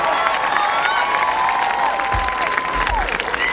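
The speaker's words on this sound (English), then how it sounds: "One more round of applause for Mr. Paul Pugh" Graduation ceremony audience applauding and cheering for an honored student, a dense steady wash of clapping with shouts and whistles on top throughout.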